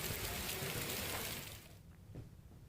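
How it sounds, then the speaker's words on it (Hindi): Torrential monsoon rain pours steadily in Sawai Madhopur, Rajasthan, a dense loud hiss that drops away abruptly about halfway through, leaving a quieter background. "लगातार मूसलाधार बारिश आज सुबह से हो रही है"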